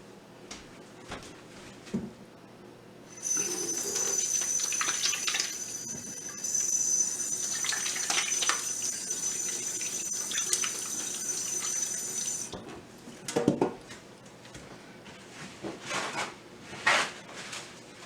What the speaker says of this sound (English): I'm going to wash my hands again, y'all.